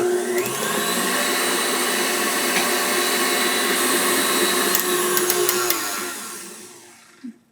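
Electric mixer whipping meringue with vanilla extract to stiff, glossy peaks, a steady loud motor whir running continuously before winding down near the end, with a brief clatter as it stops.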